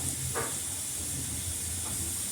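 Cumin seeds tempering in hot refined oil for dal give a steady, close hiss and sizzle that holds evenly throughout, with a faint low hum underneath and no talking.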